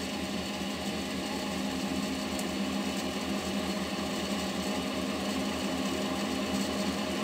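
A home-built permanent magnet generator, type 1 alternator, spins at about 311 RPM during a voltage test, giving a steady, close mechanical whir with a fast rhythmic pulse that runs unbroken throughout, with no talking.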